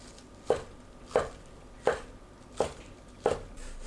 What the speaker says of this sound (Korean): 어묵을 채 썰어주세요.